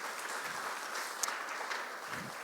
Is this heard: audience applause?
yes